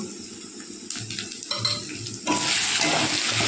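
Chicken fries in a pan with salt, chili and turmeric powder, a sizzle swelling to a loud, dense hiss midway, with a utensil scraping and clinking against the pan, no talk.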